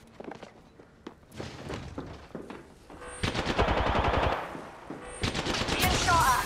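Gunfire in the Apex Legends video game: bursts of rapid automatic shots build in the second half over scattered single shots and footsteps, fairly quiet overall, with no talk.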